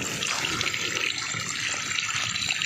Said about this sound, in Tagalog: Lakas yung tubig o.